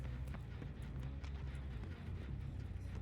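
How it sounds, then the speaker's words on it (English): Footsteps in a video game, a quick steady run of thudding steps over a dense, loud low rumble, with no voices. "I can hear footsteps"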